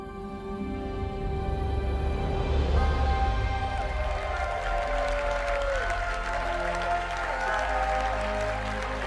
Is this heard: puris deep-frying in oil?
no